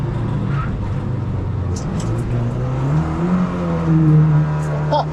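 A Lynk & Co 03+ car is driven on the Ningbo racetrack on a track day: a loud, steady engine drone from inside the cabin whose pitch rises and falls through a chicane, with someone talking over it.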